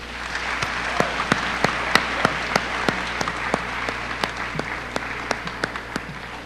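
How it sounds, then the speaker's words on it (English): A high school yearbook ceremony audience gives the 2013 yearbook staff a round of applause: steady, moderately loud clapping with distinct close hand claps recurring in a quick rhythm for several seconds. "Now we would ask that you give the 2013 yearbook staff a round of applause."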